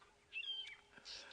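Birds call in the African bush during a morning safari drive at Djuma and Arathusa, a few brief chirps and tweets sounding faint and distant over a quiet background.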